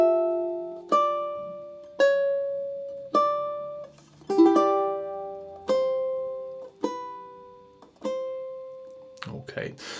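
A ukulele plays the opening two measures of a theme from The Legend of Zelda, with nine evenly spaced plucked chords ringing out one after another, clear and close, each decaying before the next.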